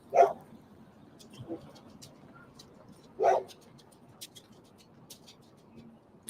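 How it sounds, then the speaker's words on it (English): Two sharp barks from dogs ring out a few seconds apart, with a fainter yip between them, over a quiet nighttime background in Nashville. "Dogs barking."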